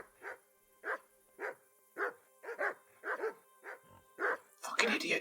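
Dogs barking in the medieval video game Kingdom Come: Deliverance, a steady run of about a dozen evenly spaced barks at moderate distance, ending in a noisier clash of game sounds.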